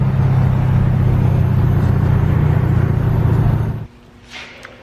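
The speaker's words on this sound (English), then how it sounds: "Voiced over audio from a race car." A V8-swapped Datsun race car drives with a loud, low, steady engine drone heard close from inside, then cuts off abruptly, leaving near quiet and a faint brief noise.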